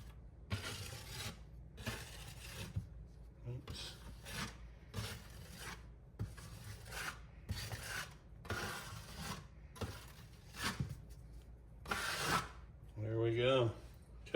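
Filler being spread with a scraper over a wall patch around a relocated TV cable, rhythmic rasping strokes one after another, close and moderately loud, with a brief voice near the end.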